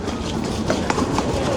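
Steady rumbling rolling noise of a passing train near Puerto Iguazú, Argentina, with rhythmic clacks of wheels over rail joints, fairly close and continuous throughout.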